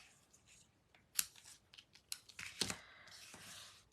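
Scissors snip through craft material in a few sharp, close cuts, with light rustling and handling sounds between the snips.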